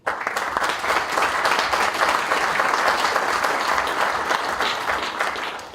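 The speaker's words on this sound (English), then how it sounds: "I would ask you to give them a huge round of applause" Sustained applause from a large conference audience, steady and loud throughout, with no talking over it.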